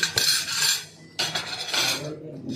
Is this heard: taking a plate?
yes